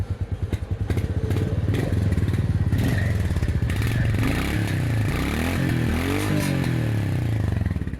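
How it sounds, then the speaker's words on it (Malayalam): A Royal Enfield Goan Classic 350 motorcycle running close by, its exhaust giving a deep rhythmic thump at idle that swells into a few loud revs before settling again, with no talking over it. "ഇതിൻ്റെ എക്സോസ്റ്റ് നോട്ട് ഒന്ന് നോക്കിയാലോ."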